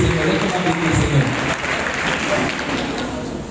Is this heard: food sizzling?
no